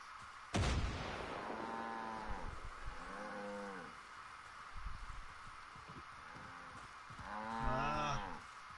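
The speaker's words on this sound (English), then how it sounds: "Oh god, I just threw a nade." A grenade goes off in the video game Far Cry 5 with a sudden sharp blast near the start, followed by drawn-out, mooing calls of cattle and a few softer thuds later on.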